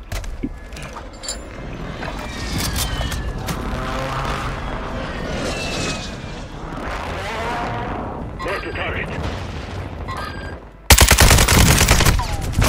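Rapid machine-gun bursts and gunshots from Warzone 2 rattle almost continuously under excited voices, ending in a louder, sharper volley of close shots.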